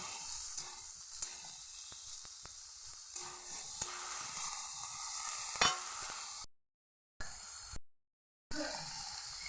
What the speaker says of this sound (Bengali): মশলা দিয়ে এবার একটু কষিয়ে নেব।